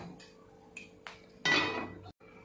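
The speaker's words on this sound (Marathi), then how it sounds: "इथं मी मोठं पातेलं गरम करायला ठेवलंय" A large metal cooking pot clanks onto a stove with a few sharp knocks and a scraping clatter, close and fairly quiet in a home kitchen.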